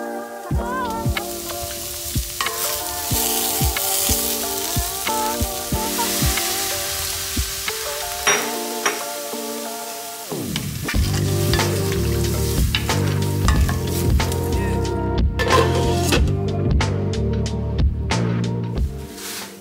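Potato chorchori with black cumin sizzles in a pan for breakfast, a continuous hissing fry broken by sharp scraping and clinking of a spatula stirring against the pan, louder and busier in the second half.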